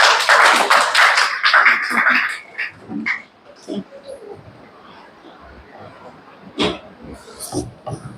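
An audience at a talk on Japanese anime and manga gives a burst of applause that is loud for about two seconds, then breaks into scattered claps and fades to a few isolated ones.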